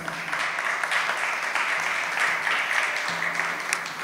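Loud, sustained applause fills the hall at an arts honours ceremony, with many people clapping densely and evenly close by, over a low steady hum.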